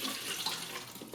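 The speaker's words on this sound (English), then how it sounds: "So we're just going to pour all of that liquid in" C41 film chemistry liquid pours into a processing tank for 4x5 film, a steady close hissing, splashing stream with no speech.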